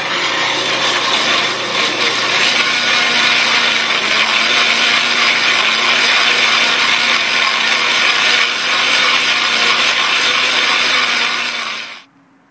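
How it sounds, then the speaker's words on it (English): A Bridgeport milling machine cuts a 4-inch hole in steel plate with a loud, steady, harsh grinding chatter that runs without pause, then cuts off abruptly at the end. "we get this mounted in the Bridgeport now, and we're going to do some cutting on this"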